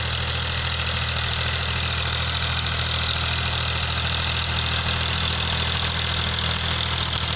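A Powertrac 445 tractor pulls a 7-foot Sonalika rotavator in second low gear, its engine giving a steady, loud, unbroken diesel drone with a constant mechanical rumble for the whole stretch, with no talking.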